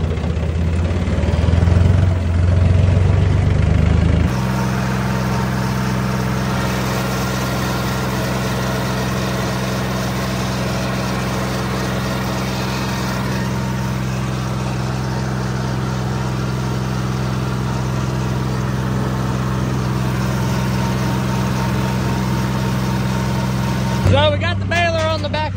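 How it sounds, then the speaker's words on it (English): A farm tractor in third gear drives out to mow a thick hay field, its engine droning steadily and loudly with a low rumble for most of the stretch, briefly quieter at the start and end. "I need to take tractor out of gear."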